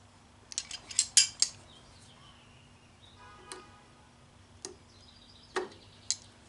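Small metal clamp being fitted onto the carburetor of a Toro 824 snowblower, a handful of faint clicks and taps scattered across a quiet room with a low hum behind.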